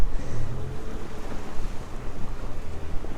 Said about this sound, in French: Alors, pour la météo, il y a un peu de mer. Il y a un vent bien frais.